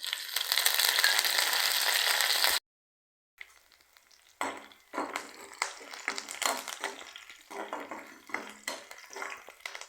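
Onion dropped into hot oil with spluttering mustard seeds for beetroot poriyal, opening in a loud dense sizzle, then a short silence and renewed crackling frying with stirring scrapes.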